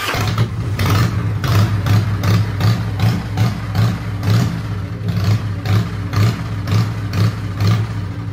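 A classic Harley-Davidson motorcycle engine, just started, idles steadily with a deep, even, rhythmic thump that stays loud and close throughout, with no voices over it.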